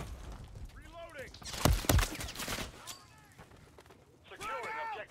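Bursts of gunfire in the Modern Warfare 3 game, a sharp close volley in the middle with scattered faint shots around it, under radio-style voices calling out in the background.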